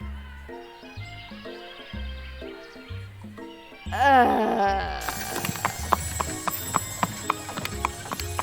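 Rhythmic horse hooves clip-clop in a steady gait under game music from a Colonel Sanders dating game, then a whinny rises before the hoofbeats continue with sharper, louder steps.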